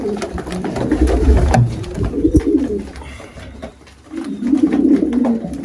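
A Karaposta pigeon chick coos and burbles in low, repeated throaty phrases close by, loud and continuous with a brief lull before the cooing resumes.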